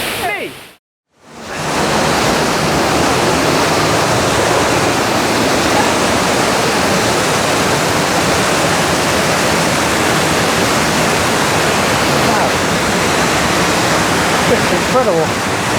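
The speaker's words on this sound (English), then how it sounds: "you can see the waterfall behind me" Sgwd Yr Eira waterfall in South Wales roars as a loud, steady rush of falling water close by, filling the whole scene after a brief dip near the start, with voices faintly present.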